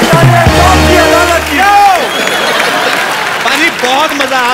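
Loud studio audience applause and cheering on a comedy talk show, a dense wash of clapping with whoops and shouts. A host's voice carries over it at the start, then the crowd noise continues strongly.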